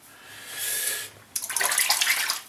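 Water from a bathroom tap runs and splashes while someone rinses shaving soap off a face, a steady rush that stops briefly, then returns closer and louder with broken splashing.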